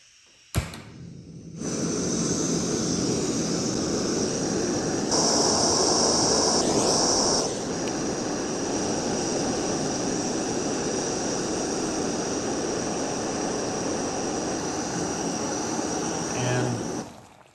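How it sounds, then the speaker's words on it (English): A camping stove burner roaring steadily under a pot as it heats water toward a rolling boil, a loud continuous rushing hiss that starts after a click and runs unbroken for the rest of the clip. "So I'm going to start the stove now, and we'll time how long it takes to get to a rolling boil"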